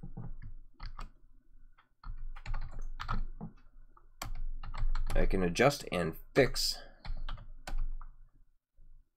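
Computer keyboard being typed on in quick clusters of light clicks and taps, close and fairly quiet, with someone talking over part of the typing.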